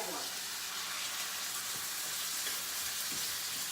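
A peppered beef chuck roast of about 2.5 pounds browns in two tablespoons of hot olive oil, giving a steady loud hiss of frying close up with occasional faint pops and scrapes.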